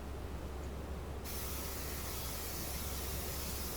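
A short, steady hiss of non-stick cooking spray sprayed onto a grill, close and continuous for a few seconds, with no voices.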